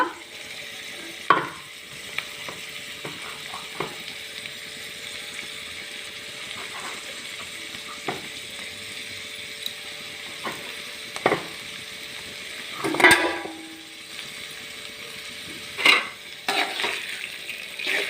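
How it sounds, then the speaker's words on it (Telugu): Vegetable curry with drumstick leaves and ground coconut sizzles steadily in an uncovered pan over medium flame while a spoon scrapes and clinks against it now and then. "మూత పెట్టకుండా ఒక నాలుగు నిమిషాలు వేయించుకుంటే కూర రెడీ అవుతుంది"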